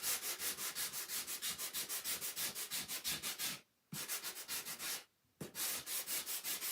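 A card's corners are hand-sanded in quick, even back-and-forth rasping strokes, close and steady, with two brief pauses before the rhythm resumes.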